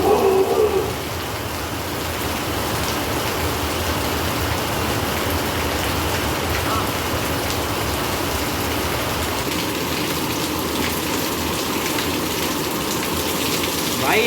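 Rain falls steadily during the rainy season, a dense, even hiss of drops pattering on surfaces that holds unbroken for the whole stretch, with a brief louder gush at the start and no speech over it.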